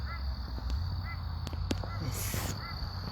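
Several crows caw in harsh, repeated calls at a moderate distance, set against a constant hum and steady ambient noise outdoors.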